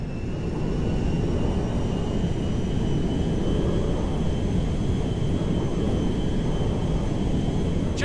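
A Merryweather cargo jet in Grand Theft Auto V roars with a steady, dense engine drone that holds at a constant loud level throughout, with a faint high whine running over the top.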